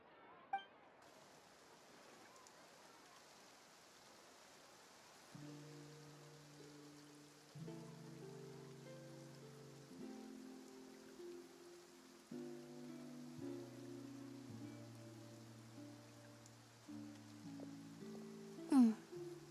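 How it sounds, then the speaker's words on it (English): Rain in the video game Genshin Impact, a soft steady patter in the Fontaine region running throughout, quiet beneath gentle melodic game music that enters partway and a sharp clink near the end. "Looks like rain."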